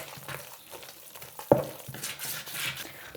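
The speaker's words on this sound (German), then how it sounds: "So, ich werde das jetzt schön verarbeiten, so kneten, bis der Teig geschmeidig ist" Soft, oily dough kneaded by hand gives wet squelching and slapping sounds, with one sharp slap partway through, close and moderately loud, with no voices.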